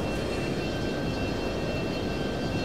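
An F-22 fighter jet flying past in the Total Air War flight simulator game, a loud, steady engine roar that holds constant for the whole stretch with no speech.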